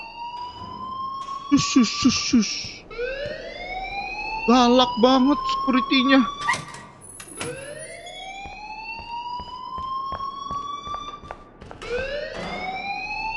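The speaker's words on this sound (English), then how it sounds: "please turn off that alarm since that's your job" An alarm in Life Is Strange shrills in repeated rising siren sweeps that run through the whole stretch, loud and close, while voices talk over it and a shushing sound cuts in.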